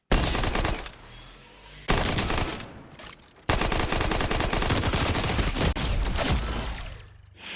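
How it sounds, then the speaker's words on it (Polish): Submachine gun in Fortnite firing long rapid bursts, loud and close, separated by brief pauses, with a final sustained stream of shots. "Pierwotny pistolet maszynowy. To są SMG, pistolety maszynowe."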